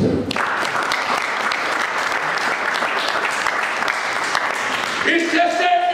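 Church congregation applauding the Lord, a dense, sustained clapping from a crowd filling the room, loud and steady, with a voice rising as the applause ends.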